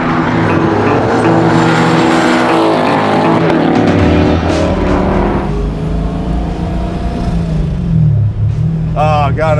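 Supercharged LS V8 in a widebody 1974 Toyota Celica, running loud and close with a rough, throbbing idle and revs that rise and fall; a voice briefly speaks near the end.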